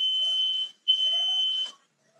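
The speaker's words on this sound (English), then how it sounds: "Sorry, there's a fire alarm going off in my house now." A house fire alarm gives two long, piercing electronic beeps, each close to a second, split by a short gap. The tone is steady and shrill, heard alone without voices.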